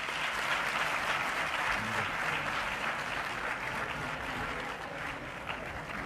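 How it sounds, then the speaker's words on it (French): A large crowd applauds loudly for a Prime Minister, a dense continuous roar of clapping from many hands, sustained at even strength for the whole stretch. "On applaudit très fort, s'il vous plaît"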